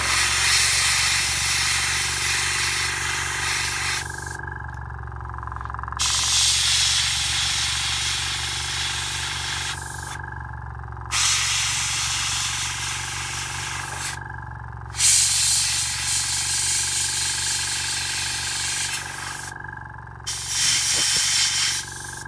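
An airbrush sprays purple and pink paint onto a miniature undead dragon model in long, steady hissing bursts separated by brief pauses, close and fairly loud, with a low hum beneath and no talking.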